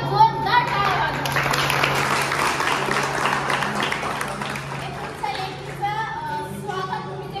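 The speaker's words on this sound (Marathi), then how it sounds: "सगळ्यांनी एकदा जोरदार टाळ्या वाजवा" Audience of women at a stage show clapping loudly on request, a broad crowd applause mixed with children's voices and chatter throughout, fading somewhat toward the end.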